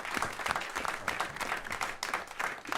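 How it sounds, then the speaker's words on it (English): Audience applause fills a theater after a Theater of War Productions panel discussion in Manhattan, a steady crowd of many hands clapping with fluttering bursts, moderately loud and continuous throughout. "I'd love to thank our 4 panelists with a big round of applause."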